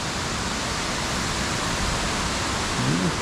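Steady rushing water of a river stream, a continuous broadband wash that stays loud and even throughout with no voices over it.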